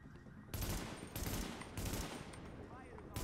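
Bursts of automatic gunfire fill the tactical shooter video game The Division (beta), dense rapid volleys repeating in several waves, loud and continuous, with faint background effects between bursts.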